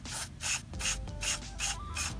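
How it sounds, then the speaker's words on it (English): Several short, loud aerosol sprays of cleaner in quick succession into a car's MAF sensor, each a burst of bright hissing, close up, with no talking. "So the first thing you're going to have to do is just spray right inside the sensor here"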